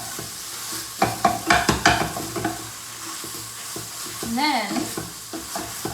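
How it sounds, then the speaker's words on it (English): Pad thai noodles being flipped into scrambled egg in a hot pan: a constant sizzle under a quick run of sharp stirring clacks, with a short bit of talk partway through. "flip your pad thai noodles into the egg"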